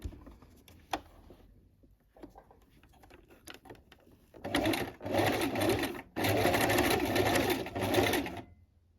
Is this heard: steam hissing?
no